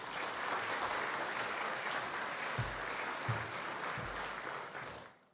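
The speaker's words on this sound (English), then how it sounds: "Round of applause," Audience at the opening of an innovation festival claps in a sustained, even round for about five seconds before it fades out, with a few low thumps under the applause.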